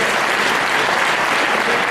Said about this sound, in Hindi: आप सब जोरदार तालियों से महंत जी का स्वागत करें।